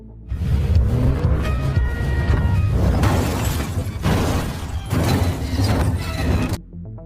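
A jeep flees in a film car chase with engines roaring loud and continuous, rising and falling through a burst of crashing and tire noise with no voices.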